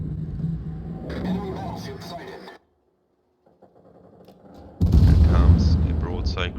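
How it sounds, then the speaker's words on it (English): A warship's naval broadside in the World of Warships video game, a heavy booming volley that bursts in loud and close after a moment of near silence, with someone talking around it. "There comes a broadside"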